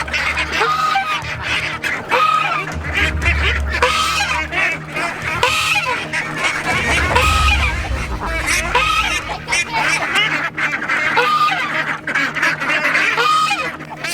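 An angry domestic goose honks repeatedly and loudly, harsh close calls in irregular bursts over a low background rumble, with a hint of voices.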